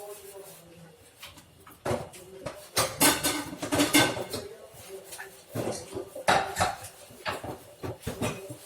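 Knife cutting through a cooled Irani bun on a board, with a series of crisp scraping strokes and light clatter of utensils, close by, while a person talks over it.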